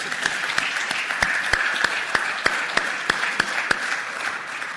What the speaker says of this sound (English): So a couple of people wanted to clap pretty good